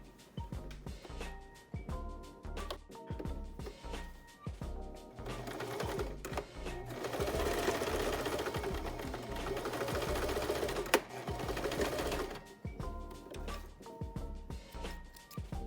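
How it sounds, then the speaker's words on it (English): A sewing machine stitches a straight seam along fabric bias tape for face mask ties, a close, steady mechanical whirring with short bursts and pauses, running longer and louder in the middle. "you're gonna sew down this line"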